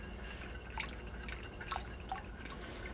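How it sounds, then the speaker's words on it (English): Jameson Irish whiskey trickles slowly into a bowl during whisking for homemade Irish cream, giving a faint run of small drips and splashes over quiet kitchen background. "I'm using Jameson Irish whiskey. And I'm going to kind of pour this in slowly while I'm whisking"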